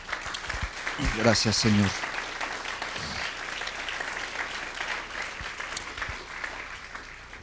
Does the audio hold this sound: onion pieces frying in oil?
no